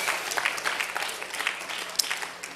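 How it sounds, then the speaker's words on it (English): An audience at an MLK Day community event claps for a contestant, a dense, steady burst of applause from a moderately close crowd. "big round of applause for Christina"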